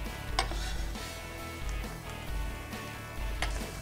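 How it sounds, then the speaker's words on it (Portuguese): An egg fries in a pan and gets stirred with a spatula, giving a soft steady sizzle broken by a few light metallic scrapes and taps. "E já vou mexendo aqui para rapidamente eu ir cozinhando esse ovo"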